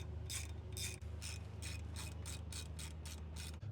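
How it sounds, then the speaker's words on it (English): A hand ratchet tightens the clutch pressure plate bolts on a BMW E46, a quiet run of about ten rapid clicking bursts in a steady back-and-forth rhythm, close by and faint, with no talking. "I just used a good-sized ratchet"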